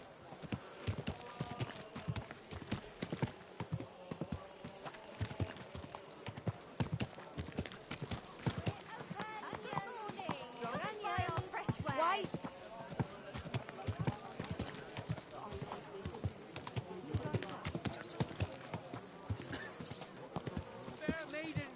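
Horse hooves clip-clop steadily on the ground in the Kingdom Come Deliverance 2 video game, a continuous rhythmic gait mixed with game sounds and voices talking over it.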